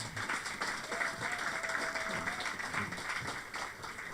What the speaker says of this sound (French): Applaudissez donc.